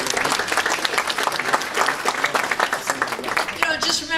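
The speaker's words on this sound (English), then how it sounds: "All right, so please give all of them a round of applause." Attendees at a New England real estate investors conference applaud a group of presenters, a lively burst of close, crisp clapping that holds steady for about four seconds.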